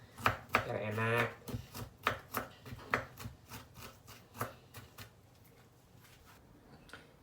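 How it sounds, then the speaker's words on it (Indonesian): Ginger and garlic are chopped with a knife on a cutting board, a close run of sharp rhythmic taps that starts quick and dense, then slows and fades out, with no talking. "Untuk jahe dan bawang putihnya dicincang ya, ibu-ibu, biar kesannya enak, biar mudah digoreng juga"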